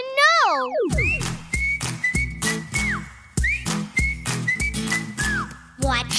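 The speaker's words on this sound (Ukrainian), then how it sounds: "Цікаво, як звук виходить із флейти." A flute is played in an animated children's cartoon, opening with a sweeping downward slide and then a lively melodic phrase of short, clear notes over a rhythmic musical backing.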